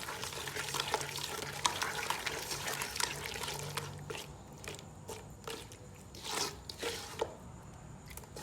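Chicken pieces mixed with egg by hand in a bowl in a Sri Lankan home kitchen, giving close, wet squishing and sloshing that carries on steadily, with rain-like hiss in the background.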